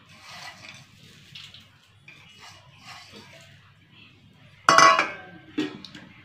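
Fried onion being stirred into basmati rice in a pot for chicken biryani, with soft scraping and a few louder clinks of a spoon against the pot near the end.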